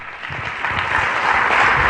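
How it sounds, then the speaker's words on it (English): An audience gives Dennis a round of applause during an employee motivation talk, a dense steady wash of many clapping hands that swells slightly louder toward the end. "give Dennis a round of applause here"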